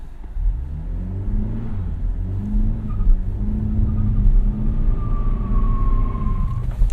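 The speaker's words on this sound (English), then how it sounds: "I think I'm going to try a very small burnout just to warm up the tires slightly." A 2017 Cadillac CT6 with a 2.0L turbo engine doing a small burnout to warm its tires: a close, loud engine that revs and holds in rising and falling surges, with a thin whine near the end.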